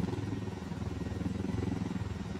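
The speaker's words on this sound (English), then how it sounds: "I feel like these choppers are a lot easier to control than the smaller ones." A large helicopter flying in the video game Ghost Recon Wildlands, a steady low rotor thrum with rhythmic pulsing, moderately loud and continuous with no talk over it.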